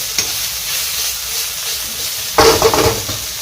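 Spicy wild boar stir-fried in a pan gives a steady close sizzle, then a louder burst of frying and scraping stirs near the end.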